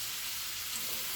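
Flour cooking in a pan over medium heat, a soft steady sizzle with faint crackle, close and continuous, no voices.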